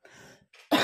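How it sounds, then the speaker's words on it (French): A single cough from a woman with bronchitis, close and sharp, coming after a soft sigh-like breath and a short throat sound. "Excusez-moi, je tousse, mais j'ai une petite bronchite."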